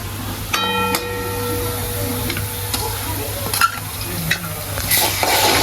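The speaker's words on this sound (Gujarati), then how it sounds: "હવે નાખી દેવું લસણ મરચાંની પેસ્ટ" Garlic-chilli paste going into an onion gravy for a Gujarati peanut bhajiya curry, stirred in the pan with a steady sizzle, a few sharp utensil clicks and a low background hum, no talking.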